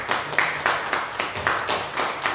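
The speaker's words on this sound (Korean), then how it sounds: "박수로 축하하고" Sparse clapping from a small church congregation celebrating birthday snack donations at the end of a worship service, a few uneven claps in loose repeated bursts at moderate distance.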